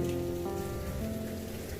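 Rain falls over a Korean rice field, a steady dense hiss with a faint tonal hum running beneath it throughout the short stretch.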